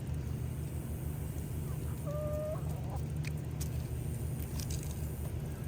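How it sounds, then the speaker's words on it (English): Backyard chickens cluck softly while pecking at mealworms, a few short calls rising over a steady low hum of background noise, fairly near and without talk. "Oh, the chickens like them."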